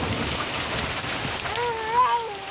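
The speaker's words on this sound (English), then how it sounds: "That means little hard pieces are hitting the deck now" Hail and rain patter steadily on an outdoor deck during a storm, a dense even rattle with a faint wavering whine rising near the end.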